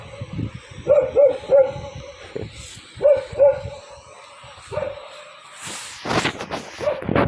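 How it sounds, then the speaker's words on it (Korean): A dog barks from somewhere off, a run of sharp yips and barks in short clusters, fairly clear against a quiet background, with some rustling and a noisy burst near the end. "강아지가 어디서 짖고 있는데 꼭 저를 향해서 짖는 것 같아서."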